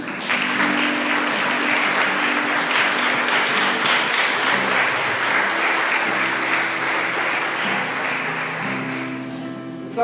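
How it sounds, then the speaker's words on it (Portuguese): Church congregation clapping loudly and steadily during a worship service, a sustained wash of many hands with a faint tonal organ or keyboard hum beneath, tapering slightly near the end. "Dê uma salva de palmas para Jesus."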